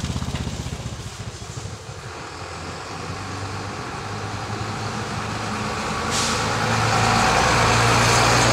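Vehicles including trucks roll past on the Maharlika highway in a steady, continuous rumble that builds louder toward the end, with no talk over it.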